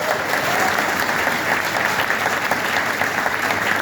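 Steady audience applause fills the room at a Nainital training session, a dense, even wash of clapping from many hands that holds for the whole stretch with no voice over it.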